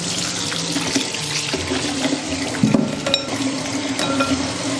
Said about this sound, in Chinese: 煮好以后，我们给它淘洗一遍，尽量用温热水淘洗哦